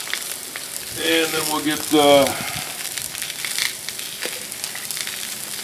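Sausages sizzle and crackle on a Blackstone griddle, a steady close frying hiss running throughout, while someone speaks briefly over it.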